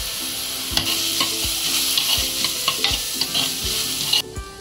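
Onions with salt and turmeric sauté in a pan, a steady sizzle broken by regular scraping and clinking strokes of a spoon as they are stirred, close and fairly loud, with no talking.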